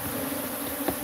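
A swarm of killer bees buzzing close by, a steady, dense drone with no pauses that fills the whole moment, with no voices over it.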